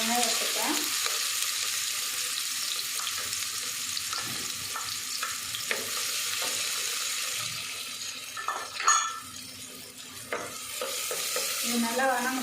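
Sliced big onions fry in hot oil with fennel seeds for a potato stir-fry, a steady hiss and crackle with intermittent scraping and clinks of stirring, close by, and a voice briefly heard.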